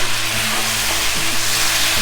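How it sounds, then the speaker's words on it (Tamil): Two finely chopped tomatoes fry in a pan for a potato curry, giving a loud, steady, continuous sizzle close by with no talking. "இதையும் சேர்த்து நல்லா தக்காளி வதங்கணும்"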